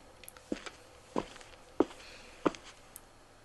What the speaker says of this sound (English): The footsteps continued to draw nearer.